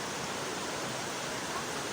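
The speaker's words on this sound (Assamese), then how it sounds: "ইয়াতে এই ঝৰ্ণাটো চাবলৈ আহিলোঁ" Rupohi waterfall on the Subansiri river in Dhemaji sends up a steady, dense roar of falling water, unbroken and even throughout with no voices.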